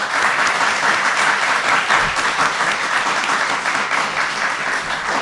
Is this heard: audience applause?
yes